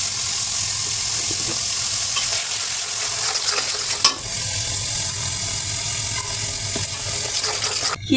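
Meat and potatoes fry in oil with a continuous loud sizzle, while stirring adds scrapes and clinks throughout.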